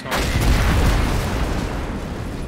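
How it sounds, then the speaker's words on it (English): Heavy, rumbling explosions with deep low-end booms blend into a continuous loud roar in a MOWA 2 4v4 video game match, with no talking. "Explosions!"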